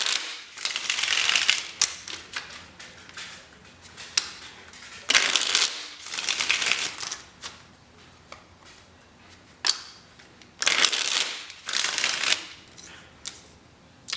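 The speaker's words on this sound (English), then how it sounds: "3 shuffles. Clear message." Tarot cards shuffled by hand in bursts, three main rounds of crisp riffling and flapping, close and clear with brief pauses and small handling clicks between them.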